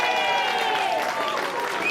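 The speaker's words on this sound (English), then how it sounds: "give Scott a massive round of applause" Applause from an audience at an event called Jaks Ball, a steady wash of clapping and crowd noise lasting about two seconds, with some voices mixed in.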